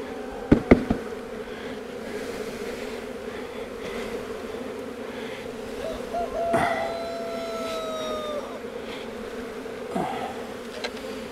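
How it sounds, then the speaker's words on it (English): Honeybees hum in a steady buzzing drone while being shaken from a package into an Apimaye hive, with a few sharp knocks and thumps near the start and scattered bumps later. "Shake the bees into the empty spot."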